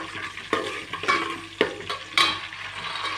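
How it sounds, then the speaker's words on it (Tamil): Spices fry and sizzle in hot oil in a pan for mushroom biryani, a steady crackle broken by a few sharp scrapes as the mix is stirred, close and fairly loud. "நல்லா ஃப்ரை பண்ண போகிறோம். இப்போ நல்லா இதில் ஃபுல்லாக எசன்ஸ் ஃபுல்லாக எண்ணெயில் இறங்கட்டும்."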